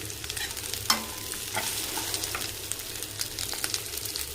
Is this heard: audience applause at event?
no